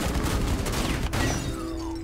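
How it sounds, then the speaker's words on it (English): Shotgun fire in the tactical shooter Rainbow Six Siege, loud dense game combat with a rapid cluster of blasts early on and a ringing tail near the end. "This shotgun crazy."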